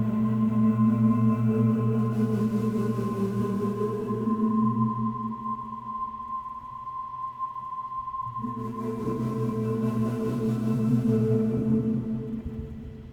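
An Augvox instrument driven by frequency modulation gives a sustained, feedback-like whine with strong harmonics. The tone holds steadily, thins out midway, then swells back, alone and fairly quiet.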